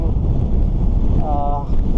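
Strong wind buffets the microphone during a bike ride through a farm area, a loud, continuous low roar with a brief tonal whine partway through.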